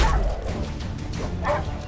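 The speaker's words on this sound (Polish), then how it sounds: "A nejaké veľké divoké psy." Big wild dogs bark and yip in The Witcher 3: Wild Hunt – Hearts of Stone, a few rough, noisy bursts over dense in-game background noise.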